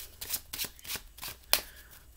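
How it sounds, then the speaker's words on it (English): Playing cards being shuffled by hand during a card trick, a series of crisp riffling bursts in a quick irregular rhythm, close and fairly quiet with no talking. "So I would shuffle,"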